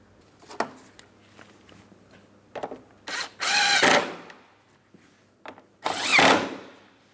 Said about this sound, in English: start in each of my two 10mm headed mounting bolts